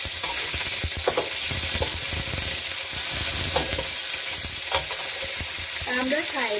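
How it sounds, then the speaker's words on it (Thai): Squid hitting a hot pan with fragrant fried garlic for Thai squid fried rice: a steady, close sizzle with the scrape and clack of stirring throughout. "กระเทียมหอมแล้วเราก็ใส่ปลาหมึกเลยค่ะ"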